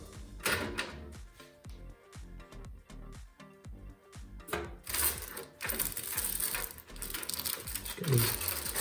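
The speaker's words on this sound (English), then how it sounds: "Just get these screws out." Screws being backed out of a PC case for a low-budget gaming build, with dense close metallic ticking and rattling, small clinks and handling noise running throughout.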